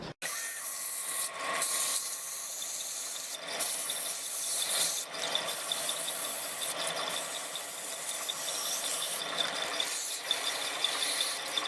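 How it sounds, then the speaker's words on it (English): Continuous rhythmic rubbing strokes of wet sanding a segmented bubinga and purpleheart wooden bowl, close and steady, with periodic brief pauses and no voices. "basically wet sanding this"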